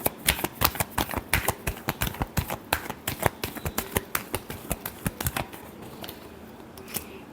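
Tarot cards shuffled by hand in a rapid run of crisp riffling flicks that stops near the end, close and alone with no voices.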